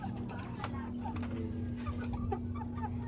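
Hungry chickens cluck and chatter softly at close range while waiting to be fed, with a steady hum underneath and a person speaking quietly among them.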